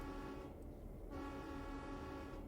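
The horn of a Santa Fe F7 locomotive in Train Sim World 3 blares as one long, steady, loud chord-like blast, continuing throughout over engine rumble.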